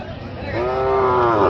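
A single cow gives a loud, close, drawn-out moo over a busy background at Ranigonj cattle market in Ghoraghat, Dinajpur, on a smaller Thursday market day.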